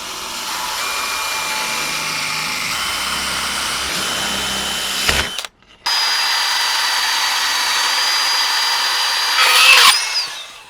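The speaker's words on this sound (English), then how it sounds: "I'm gonna make a hole here for my mount for the magnet, and slightly bigger hole for the sprinkler itself." A power drill bores two holes for a magnet mount and a washer-fluid sprinkler on a universal washer fluid reservoir bracket. A loud steady whine runs about five seconds, cuts out briefly, then returns just as loud for another five seconds, alone with no talk.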